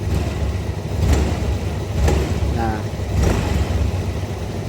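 A Yamaha Fazzio scooter's engine runs with a loose knocking from the CVT area on initial throttle. Mid-pitched engine hum carries a few faint periodic knocks, heard close.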